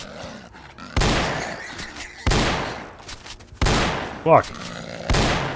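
Shotgun blasts in the game STALKER: Call of Pripyat, four heavy, booming shots spaced about a second apart, each tailing off quickly, with a brief voice cursing between them.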